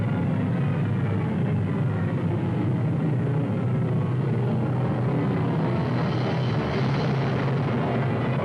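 B-17 bomber engines drone in a wartime air battle, a steady, dense low roar of piston aircraft that holds for several seconds and swells slightly near the end, with no voices over it.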